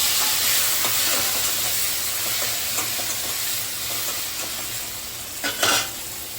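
Chopped tomatoes sizzle and fry steadily in a pan for chutney, a close, even hiss with occasional stirring scrapes and a brief louder clatter near the end.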